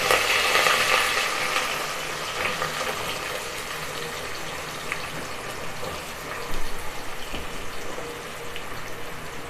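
Steady, close sizzling and crackling of large onions frying in hot oil with curry leaves for a chicken masala, a continuous hiss with small pops throughout.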